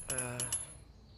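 A few quick metallic chimes of coins ring out in a short cluster, bright and close, then fade away, in the video game Hitman 2.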